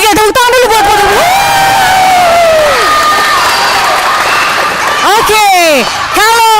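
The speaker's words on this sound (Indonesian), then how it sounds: "tepuk tangan dulu buat Putra Bogel" Loud crowd cheering and applause for a village player in Desa Panyangkalang, with shouts, whoops and high-pitched yells rising over clapping, close and energetic throughout.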